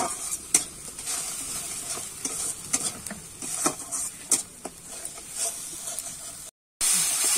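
Spice paste for a fish-head and soybean curry being sautéed in a pan, with a steady close sizzle and repeated scraping strokes of a spatula stirring it, ending after a brief drop to silence.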